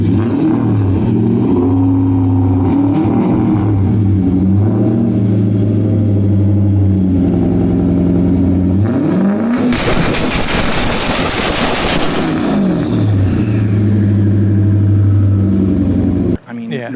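A powerful domestic sports car engine revs and accelerates loudly and close, its steady roar climbing in pitch and swelling into a harsh, crackling burst of exhaust noise near the middle before settling back.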